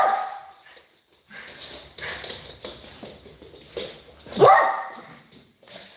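A dog barks and whimpers in short irregular bursts across a room, with a louder yelp near the end, mixed with faint background movement and no clear speech.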